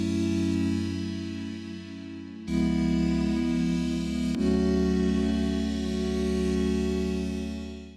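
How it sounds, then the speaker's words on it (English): A Serum synth chord layer for a lo-fi track holds sustained, warm chords that change twice, each swelling and slowly fading, heard alone without talk. "We have 3 serum tracks giving us our chord layer. The first layer sounds like this."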